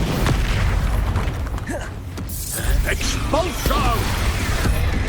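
Blasting spell explosions in the Hogwarts Legacy video game, deep booming bursts with rumbling low end and creaking, crackling debris over continuous game sound, one heavy blast near the middle.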